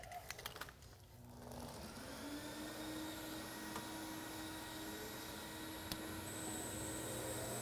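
A concrete polishing machine with a 400 grit pad works over a self-leveling concrete topping. After a few light knocks it settles into a steady, fairly faint whirring drone that continues without a break.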